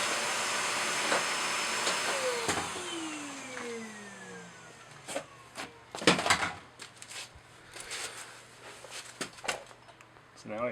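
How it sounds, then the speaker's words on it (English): A shop vacuum in a garage whines and hisses steadily, its pitch sliding as it winds down, followed by scattered clicks and knocks nearby, during O-ring grooving of a 4G63 engine block. "Having a vacuum in the garage is actually very handy."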